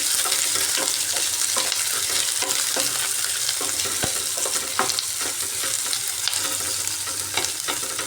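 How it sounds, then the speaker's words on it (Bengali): Chopped onion and garlic frying in oil for an aloo palak dish, a continuous crackling sizzle punctuated by scraping stirs and light utensil knocks, close and fairly loud with no talk. "এবার পেঁয়াজ রসুনটাকে একটু ভালোভাবে ভাজা ভাজা করতে হবে"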